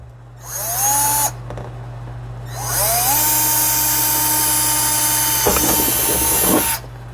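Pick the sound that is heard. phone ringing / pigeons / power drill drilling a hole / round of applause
power drill drilling a hole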